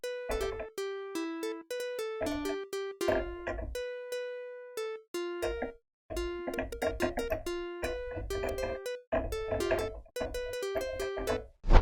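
A plucked, guitar-like synth tone from FL Studio's Cytrus plugin playing a busy run of notes and chords, bright and close, with brief gaps between phrases and no voices.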